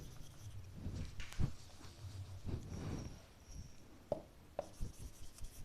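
A pen scratches across paper as notes are written, soft irregular strokes and taps in short bursts, close and quiet with no talking.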